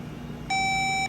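Multimeter continuity tester checking a connector wire on a Honda Accord, giving one steady, clear electronic beep that starts partway through and holds to the end over faint background noise.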